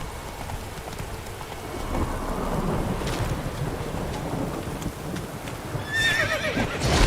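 Roach, a horse in The Witcher 3, runs with steady hoofbeats under a rumbling bed of rain and wind, and a brief whinny near the end.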